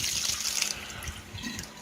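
Water and soaked sunflower seeds splash and trickle into a sink, a soft, continuous pouring with a few wet spatters, quiet and close.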